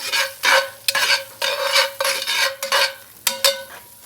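Onions tossed into a pot over a wood fire sizzle loudly while a utensil stirs and scrapes in repeated rhythmic strokes, close and prominent with no voices.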